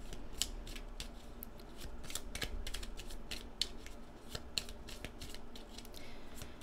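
Rapid papery flicks and soft snaps of tarot cards being shuffled, repeating in quick bursts over a low background hum.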